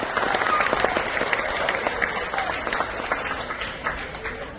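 Crowd applause at a birth anniversary jubilee celebration, a continuous rattle of many people clapping, moderately distant and gradually thinning toward the end, with faint voices mixed in.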